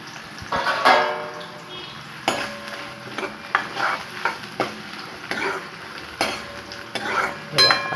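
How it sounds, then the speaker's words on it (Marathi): Onion fries in oil on low heat until reddish while making chole, a continuous sizzle broken by repeated scraping and clinking stirs of a utensil against the pan at irregular intervals. "तर आपण आता तो तळून घ्यायचा आहे कांदा"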